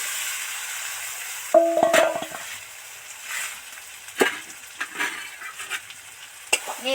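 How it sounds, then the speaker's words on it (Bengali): Fried potatoes, pointed gourd and soybean chunks are stirred into hot spiced oil in a pan, giving intermittent scraping and soft sizzling bursts over a steady low hiss, close by with no talking. "যে ভাজা সবজিগুলো ভেজে রেখেছিলাম সেইগুলো এর মধ্যে তুলে দিচ্ছি"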